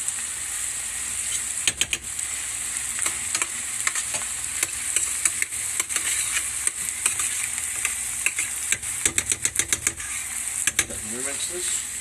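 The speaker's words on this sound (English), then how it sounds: "I'm going to let that simmer a little bit." Tutto Rosso tomato sauce simmering in a pan gives a steady crackling, bubbling sizzle throughout, punctuated by repeated sharp clicks and taps of a spoon near the end.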